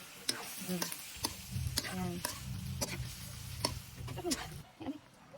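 Buttered shrimp frying and sizzling in a pan while being stirred, with repeated sharp scrapes of the utensil against the pan over a steady sizzle, and a voice speaking intermittently.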